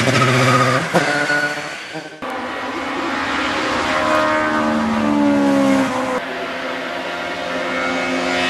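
A race car charges up the Hauenstein hill climb, its engine roaring loudly through quick gear changes and rising revs as it passes close by, then fading slightly into the distance.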